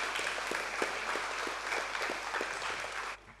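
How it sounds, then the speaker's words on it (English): Audience applause following a science talk on climate change and pets, a steady dense clapping from a seated crowd that holds evenly before cutting off abruptly near the end. "Huge round of applause for Dr. Edward Narayan."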